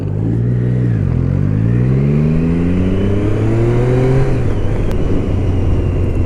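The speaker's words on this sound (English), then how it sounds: "It's a fantastic engine." A Triumph Street Triple 675 Rx motorcycle engine revs hard, pitch dipping on a gear change, then climbing steadily under load, loud and close with a constant roar and no voices.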